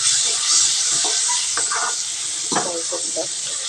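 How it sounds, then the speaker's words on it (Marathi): Tomatoes hitting a pan of roasting spices while cooking a cowpea curry, a loud, continuous sizzling hiss close up, with someone speaking over it. "आता मी टोमॅटो ॲड करत आहे"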